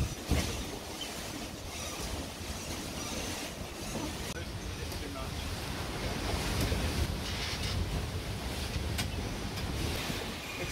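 Storm at sea aboard a small sailboat, strong wind roaring and rumbling against the microphone with broad wave wash underneath, a steady dense noise with a sharp knock near the start.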